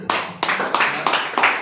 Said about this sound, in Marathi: अरे वा, टाळ्या